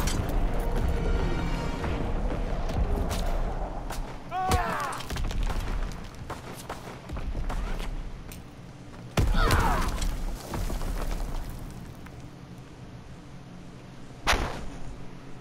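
Artillery fire in a World War II video game, scattered booming impacts and sharp blasts landing a few seconds apart over a steady rumbling background, with voices occasionally over it.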